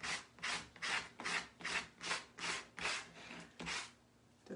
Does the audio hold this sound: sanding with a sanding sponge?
yes